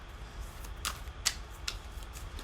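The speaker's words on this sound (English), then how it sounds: "I don't know why I'm shuffling so much" Tarot cards being shuffled by hand, a few soft crisp riffling snaps spaced irregularly over a quiet low background hum, close and faint, with no voice.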